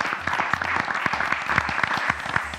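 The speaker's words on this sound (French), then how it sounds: "applaudis tous les participants net pour moi" An audience at the Génie Milényal 2022 semi-final applauding the participants, with steady, dense clapping throughout and a voice talking over it.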